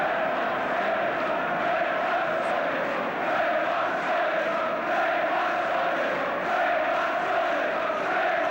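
A 1975 League Cup Final football crowd of Aston Villa and Norwich City supporters, a broad sustained roar of chanting voices filling the stadium, steady and loud without a break.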